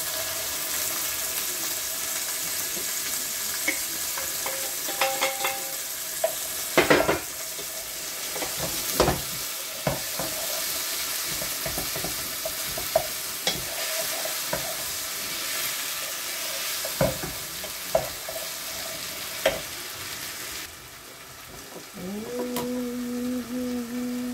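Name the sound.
frying onions, garlic and parsley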